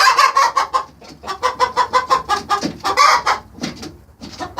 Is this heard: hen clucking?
yes